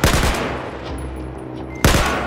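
Rapid automatic gunfire in the Battlefield 4 single-player campaign, loud and close, a dense burst that tails off and then resumes sharply near the end.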